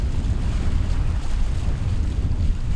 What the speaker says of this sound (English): The wind is blowing quite crazy in the actual Messina Strait